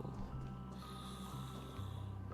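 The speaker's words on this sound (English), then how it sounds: "We can actually hear them snoring." Characters snoring in the Penacony area of the video game Honkai: Star Rail, heard as a steady, low, rumbling drone that runs continuously beneath in-game ambience.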